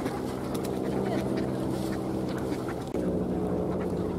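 Ducks wintering on a pond at Tsarskoye Selo, quacks and bird calls scattered over a steady low engine-like drone, with a brief dip near the end.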